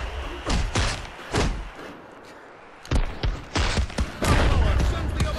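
Punches landing in the VR boxing game Creed: Rise to Glory, a series of sharp thudding impacts in uneven clusters, close and punchy, with game crowd ambience and a player talking over them.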